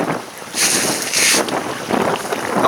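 Steady wind buffets a sailboat at sea, a broadband rushing roar that swells and eases in gusts, with wind noise hitting the microphone and no voices.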